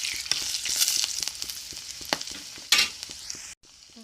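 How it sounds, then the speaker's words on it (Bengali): Garlic frying in hot oil with panch phoron spices in a pan, a steady close sizzle with stirring scrapes throughout and a brief louder burst of crackle near the end before it drops away. "হালকা রসুনগুলো বেজে নেব।"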